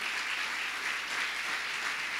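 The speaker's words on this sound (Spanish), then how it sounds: "Le puede dar un aplauso a él." Steady crowd applause, many hands clapping in a dense, continuous wash without pauses or voices.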